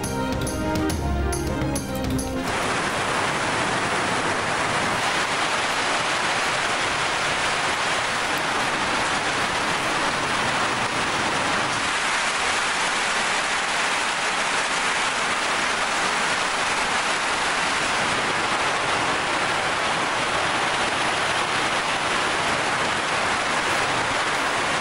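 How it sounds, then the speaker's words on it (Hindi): Heavy monsoon downpour over the hill regions of Murree, Muzaffarabad and Malakand, a dense, steady roar of rain that continues unbroken for the whole stretch after a brief different sound at the start, with no voices. "मरी, मुजफ्फराबाद, मालाकंड और लोहरदीर समेत बालाई इलाकों में मूसलाधार बारिशें।"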